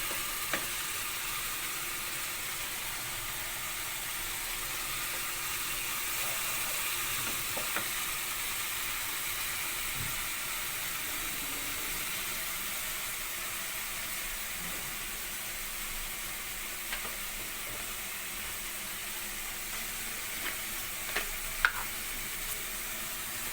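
Okra fries in a pan of yogurt spice masala, giving a steady, even sizzle with occasional faint clicks of stirring, close and alone without talk.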